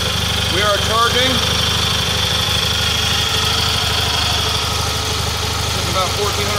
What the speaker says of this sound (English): Got some tuning to do, but it's running.